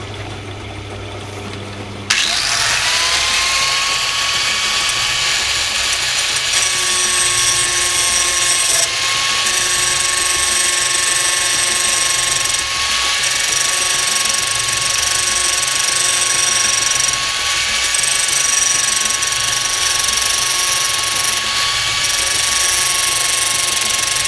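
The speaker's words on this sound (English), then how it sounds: "now I'm going to grind the centre point on it" Steady loud grinding whine of a bench grinder shaping the centre point of a homemade tailstock part for a DIY woodturning lathe, starting abruptly and holding a high sustained tone throughout with slight pitch dips as metal is pressed.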